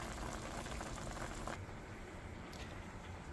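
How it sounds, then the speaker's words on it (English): Potatoes with sausage and vegetables boiling in a pan, a soft continuous bubbling and pattering of liquid, close but quiet, easing slightly midway. "Bringing it to a boil to help cook those potatoes."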